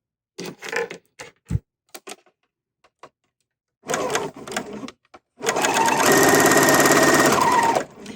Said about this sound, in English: We can stitch without any fabric just to make a chain.